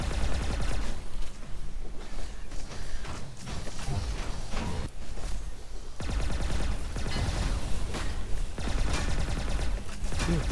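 Rapid pulse gun shots in the arena shooter Reflex, a continuous stream of fast, evenly spaced energy-weapon bursts, loud and close, with brief gaps and some thuds and movement sounds between volleys.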